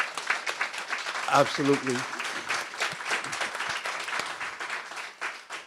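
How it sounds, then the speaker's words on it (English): An audience at a Board of Education meeting gives a round of applause, steady scattered clapping throughout, with a voice speaking briefly over it. "So can we give her a quick round of applause?"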